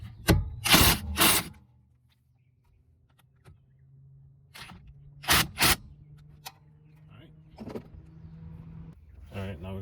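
A 10mm bolt on a Nissan rear hub is driven tight in two short, sharp mechanical bursts, one near the start and one midway, with quieter handling noises and a voice in between.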